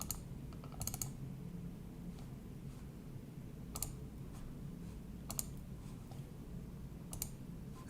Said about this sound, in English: I'm going to double click this.